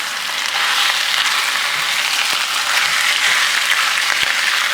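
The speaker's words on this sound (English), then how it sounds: "now let's add the meat. I'm gonna stir this one like 4 to 5 minutes" Pork for spicy braised pork sizzles loudly and steadily in a hot pan as it is stirred. The hiss is dense and continuous from start to finish, with faint scraping clicks and no voices.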